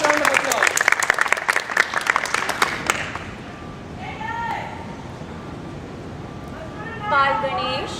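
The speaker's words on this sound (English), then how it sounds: "let's start with a round of applause" Applause and clapping from a live comedy-show audience, dense and lively for about three seconds, then fading out as voices and quieter sounds take over.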